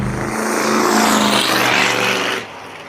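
A 1979 Ford Ranchero's engine revs loud and close in a sustained acceleration, shifting at 3,500 RPM, then the roar drops off sharply near the end as the truck pulls away.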